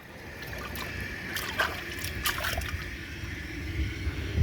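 Water poured and splashed around the rim of a toilet bowl to rinse it, a close trickling, splashing flow that swells and fades, with no speech.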